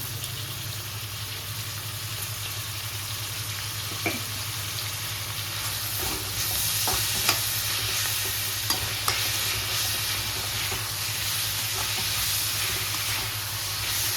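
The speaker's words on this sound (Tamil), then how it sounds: "தக்காளி வதங்கட்டும்" Tomatoes sautéing with salt in a pan for banana flower kofta curry give a steady close sizzle and hiss, with a few scraping stir strokes partway through and no talk.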